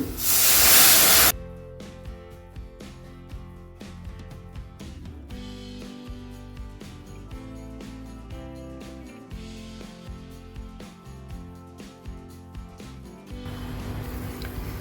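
Hot water poured into a cooked onion-tomato masala with oil, turmeric and red chilli in a pan, giving a loud, sharp hiss for about a second before fading into quieter sizzling and bubbling.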